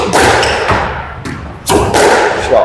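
Squash ball struck with rackets during a game on an indoor court, a few sharp thuds with short echoing decay spaced around a second apart, fairly loud and close.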